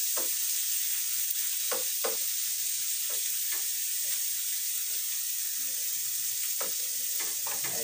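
Tomatoes being crushed in a hot frying pan while cooking eggplant, with steady close sizzling and frying hiss broken by a series of soft knocks and scrapes of a utensil against the pan.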